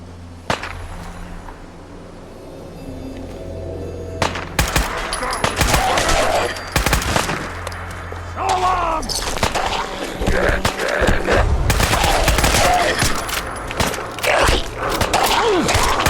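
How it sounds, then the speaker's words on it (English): Gunfire and fighting in the video game Fallout 4: bursts of rapid shots and sharp cracks, loud and dense, following a quieter stretch with a low ambient hum. "Ik hoor dat er ergens geknokt wordt."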